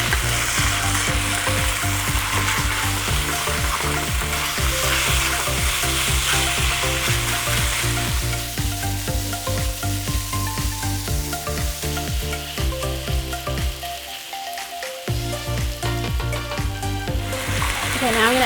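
Pork sizzles and spatters steadily in a hot pan as it is stir-fried for Shanghai noodles, with a continuous loud frying hiss and periodic scraping of the pan throughout.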